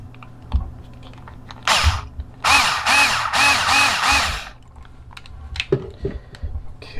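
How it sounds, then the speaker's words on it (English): A screw driven into a part of a Gyruss arcade machine during restoration, with several short whirring bursts of a powered driver among small clicks and handling knocks, close up and without speech. "let me commit to actually screwing this in"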